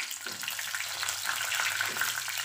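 Dense, steady sizzling of garlic and two whole dried red chilies frying in hot oil for a dal tarka, with light crackles, close up and continuous, no talking.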